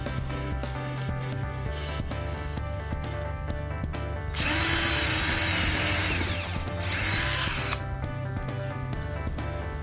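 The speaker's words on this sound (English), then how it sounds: "I'm gonna drill first a pilot hole, then fasten it with a screw afterwards." A Mitsushi cordless drill driver bores a pilot hole into wood, with steady motor whine throughout and a louder, harsher grinding burst as the bit bites in midway, then a second shorter burst, close and loud.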